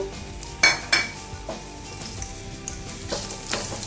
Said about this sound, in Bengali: এবার তেলের মধ্যে আমি পেঁয়াজ কুচিগুলো দিয়ে দিব